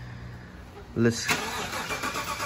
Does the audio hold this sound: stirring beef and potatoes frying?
no